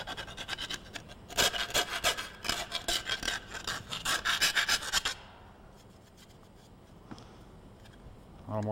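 A hand file rasps along the edge of a flanged lightening hole in sheet metal to remove the burr, in quick rhythmic strokes that are close and loud for about five seconds, then stop and leave quiet room noise.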